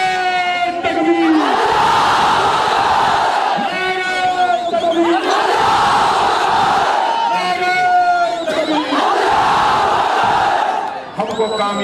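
A large political rally crowd roars back a religious slogan in unison after a leader's chant, loud repeated surging shouts alternating with the lone amplified call.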